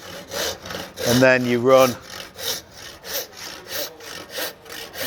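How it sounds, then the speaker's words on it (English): A handsaw cuts down the cheek of a tenon in timber for a traditional mortise and tenon joint, with steady rhythmic rasping strokes close up and a brief spoken phrase partway through. "and then we just need a handsaw"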